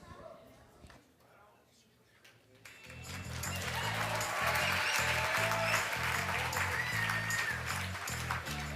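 At the Braille Challenge finals awards ceremony, applause swells after a quiet moment into a steady broad roar of clapping from the audience, mixed with background music and someone talking.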